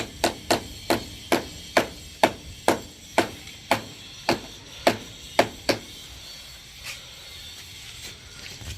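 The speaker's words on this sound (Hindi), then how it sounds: "देखिए, ये एक कील लगा दी। आप चाहें तो पूरी भी कील लगा सकते हैं।" Hammer blows drive nails into a PU stone wall panel during installation, about thirteen sharp, evenly spaced strikes that fade toward the end, close and clear with no talking.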